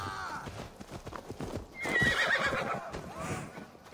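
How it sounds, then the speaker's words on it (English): A horse gallops in Assassin's Creed Valhalla, its rapid hoofbeats loud and close with a whinny partway through, while a brief voice comes in faintly near the start. "the horse is chasing me"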